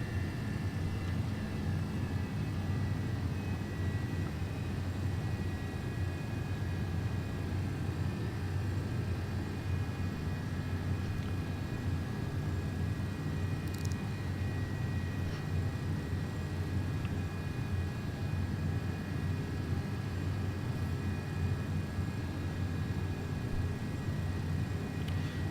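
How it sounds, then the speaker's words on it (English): Steady, unbroken roar of MD-11 jet engines at climb thrust in the X-Plane 12 flight simulator, a constant broadband hum with a faint high whine throughout and no talking. "Climb thrust now active."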